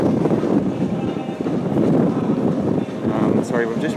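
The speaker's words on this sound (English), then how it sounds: "we've just really walked into some massive wind" Strong gusts buffet the microphone on the open deck of a Royal Caribbean cruise ship at sea, a loud rumbling roar that stays close throughout, with a person talking over it near the end.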